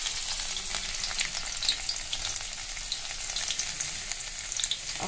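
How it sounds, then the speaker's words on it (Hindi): Chopped garlic frying in hot oil in a kadai, a steady close sizzle with faint crackles and occasional stirring, no voices. "अब इसमें हम कटा हुआ लहसुन डाल दे रहे हैं"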